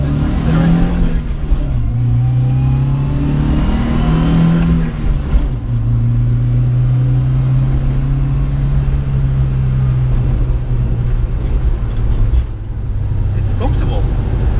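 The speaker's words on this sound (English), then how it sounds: "So let's accelerate a little bit." A 1993 Nissan Sunny DX pickup, empty, accelerating on the road: a steady engine drone whose pitch climbs and shifts through gears, heard from inside the cab beneath continuous road noise.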